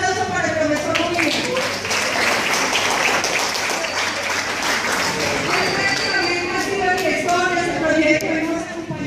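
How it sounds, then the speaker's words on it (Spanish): An audience gives applause to welcome a teacher at an urban agriculture project event in Siloé, dense continuous clapping that fills the whole stretch, with voices blended into the crowd noise. "un aplauso para el profesor William"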